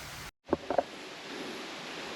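Water rushing down a waterfall in a moorland clough on Anglezarke Moor, a steady broadband roar throughout, with a brief dropout and a few close rustles or footsteps near the start.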